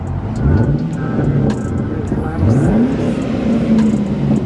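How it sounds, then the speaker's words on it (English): A Pontiac G8 with a muffler delete and X-pipe revs loudly up close, its engine pitch climbing and falling in several sweeps over a raspy exhaust rumble. "I don't even rev my own car up that high."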